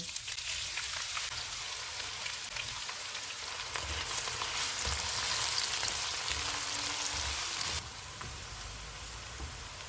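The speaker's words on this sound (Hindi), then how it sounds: "2 प्याज डालेंगे, इनको गोल्डन फ्राई करेंगे।" Onions frying golden in hot oil for chicken biryani, a dense continuous crackling sizzle that stays loud and steady, easing slightly near the end.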